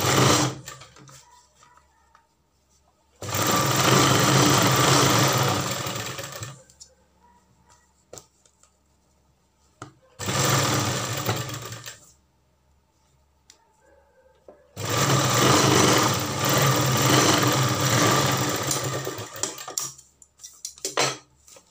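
Sewing machine stitching a sleeve seam on fabric, running in three separate bursts of rapid, steady needle chatter with quiet pauses between them, close and loud, with no voices.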